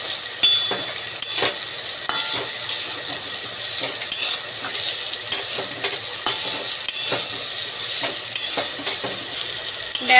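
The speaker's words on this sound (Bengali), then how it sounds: "একটুখানি এরমভাবেই নাড়াচাড়া দিয়ে ভাজতে থাকবো" Flat beans frying in a pan, a steady bright sizzle with repeated sharp clicks and scrapes of a utensil stirring against the pan, close and without talk.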